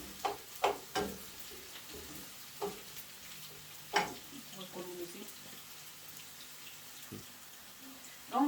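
Plenty of onions frying in a pan for a Spanish tortilla, a soft steady sizzle under scattered utensil clatter and stirring knocks, with a voice speaking in between.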